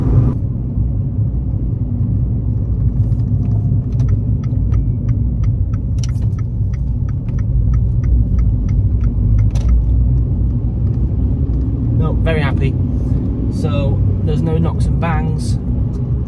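Fiat 500S car driving on the road, a steady low engine and road rumble from inside the cabin with light rattles and clicks, and a voice speaking briefly near the end.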